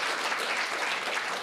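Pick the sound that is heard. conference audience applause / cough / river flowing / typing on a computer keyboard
conference audience applause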